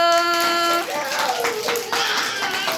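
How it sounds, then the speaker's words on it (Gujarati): Children clap together at a birthday celebration in an anganwadi classroom, a burst of mixed hand claps that follows a sung note and carries on under faint chatter. "અરે વાહ બાળકો, તાળી પાડો"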